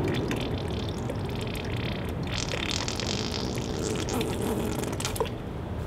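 Blue paint squeezed from a container gives wet, squirty, sputtering bursts with a liquid, flatulent quality, fairly faint against background noise.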